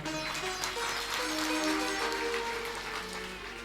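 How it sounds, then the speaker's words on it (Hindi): An audience at a spiritual discourse breaks into sustained, fairly loud clapping that swells and then tapers off, with a faint hum of music underneath. "अरे जोर से बजा दो ताली।"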